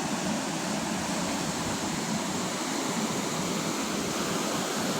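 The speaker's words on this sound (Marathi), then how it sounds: "असं हे पाणी चालू सुटलेलं आहे धरणाच्या गेटातून" Loud, steady roar of water rushing and churning out of dam gates, a continuous broadband torrent with no pauses, close and filling the whole scene.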